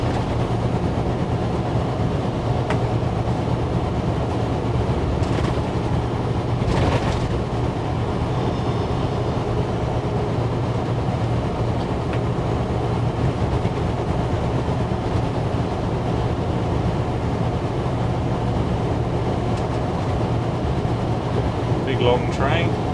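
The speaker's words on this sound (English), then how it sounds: "Long train." A long train passing: a steady, loud rolling rumble that holds for over twenty seconds with faint rhythmic rail clatter, under continuous vehicle cabin noise, with brief talking.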